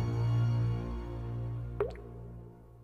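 A single small drop falls from a perfume bottle and lands with a short wet plop over a low, steady background hum.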